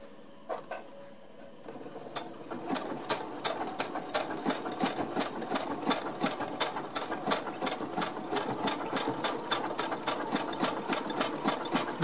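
A sewing machine stitches fabric for socks, running in a fast, steady mechanical clatter of repeated needle strokes that starts hesitantly and then settles into a close, even rhythm.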